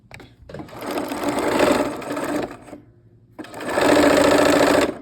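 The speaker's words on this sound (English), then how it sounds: "All right, we'll go ahead and sew those up" A sewing machine stitching quilt pieces together for a Bursting Blooms quilt, loud and close, running in two steady bursts separated by a short pause.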